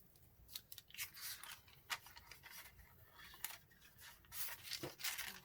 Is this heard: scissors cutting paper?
yes